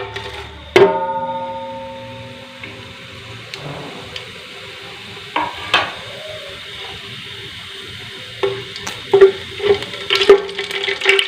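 Star anise, cinnamon, cloves, cardamom and fennel seeds dropped into hot oil, giving an initial clatter and then a low frying sizzle with intermittent stirring scrapes and clinks of a spoon against the pot, close and moderately loud.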